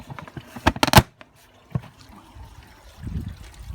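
Water trickles from a pond tap after a couple of sharp clattering knocks, then a soft, uneven dribbling wash that grows a little toward the end.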